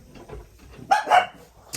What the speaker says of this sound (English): Our little guard dog's on alert.